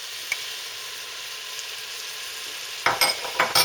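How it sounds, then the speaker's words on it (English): Beef and onions fry in a pan with a continuous close sizzle, then a burst of scraping, stirring clatter breaks in near the end, with no talking. "When the onions are translucent, place the meat back in the pan."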